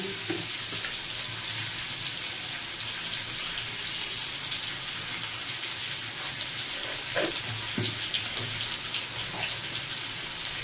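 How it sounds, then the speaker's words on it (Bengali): Hog plums (amra) fry in a pan for a chutney, giving a continuous bright sizzle with a hissing, watery texture. The sound stays steady throughout and is close to the listener, with a few faint clinks and no talking. "আমি আমড়াগুলো দিয়ে একটুখানি ভেজে নিয়েছি, কালারটা চেঞ্জ হয়ে গেছে"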